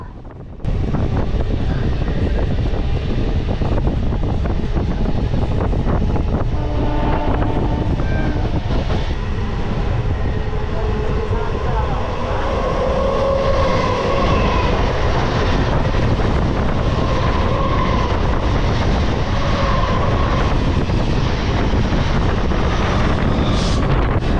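A Sealdah to Katwa galloping local train runs at speed, giving a loud continuous roar with wind rush and rattle heard from on board, steady throughout without any pause.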